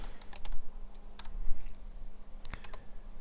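A computer keyboard types commands into the pfSense router's shell console. Several quick bursts of close key clicks are separated by short pauses, with no talking.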